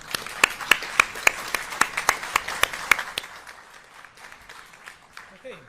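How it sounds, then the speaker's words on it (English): A round of applause in a courtroom, a modest group clapping in a rhythmic burst of distinct claps that thins out and fades after about three seconds. "I think we give a round of applause to the people who've served us."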